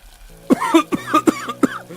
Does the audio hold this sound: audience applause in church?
no